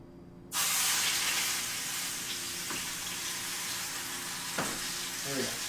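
Beef searing in a smoking-hot pan for a roast beef dinner, a loud sizzle that bursts in suddenly and then holds steady, with a couple of faint clinks from the pan.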